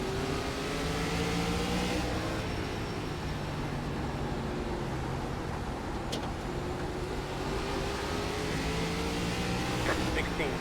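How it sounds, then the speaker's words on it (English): An ARCA race car in iRacing at Langley Speedway drones at full throttle, a continuous engine tone with shifting pitch as it circles the track, moderately quiet and heard under someone talking. "Oops, I hit the throttle there."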